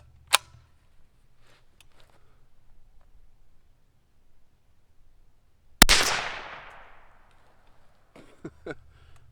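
A single sharp rifle shot of CCI ammunition fired over a chronograph cracks out with a decaying echo, set among scattered small clicks and handling noises.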